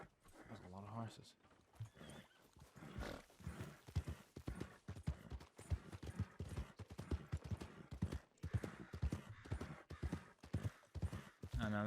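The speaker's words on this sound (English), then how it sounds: "There's a lot of horses." Horses clip-clopping in the Western open-world game Red Dead Redemption 2, with steady hoofbeats on a roleplay server and someone talking over them throughout.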